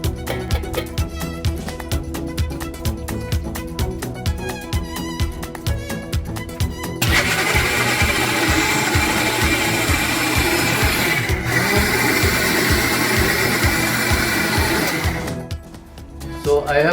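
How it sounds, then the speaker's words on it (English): A kitchen blender purées sautéed vegetables into a smooth paste for a paneer pinwheel gravy, a loud, steady whirring roar running for several seconds after a stretch of background music, then cutting out near the end. "So I have finished blending my sautéed vegetable"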